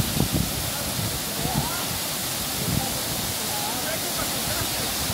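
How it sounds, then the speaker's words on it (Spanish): Icy cold waterfall at thermal springs in Colombia's coffee region, a steady loud rushing hiss of falling water with a few brief thumps and splashes. "Ahí César ya está ingresando a la cascada, que está súper helada"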